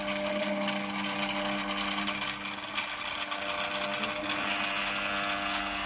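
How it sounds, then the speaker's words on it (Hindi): A jammed air-cooler motor hums and buzzes steadily as it strains to turn, with a continuous droning tone and a faint rattle underneath, with no one speaking. "फिर हम जैसे ही इसकी मेन मोटर को चलाते हैं तो इसकी आवाज आप सुनना या थोड़ा थोड़ा घूमने की कोशिश करती"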